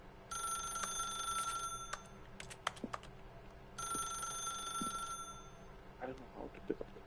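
Telephone ringing in The Stanley Parable video game, two bursts of an electronic bell ring separated by a pause, with a few clicks and a voice speaking softly near the end.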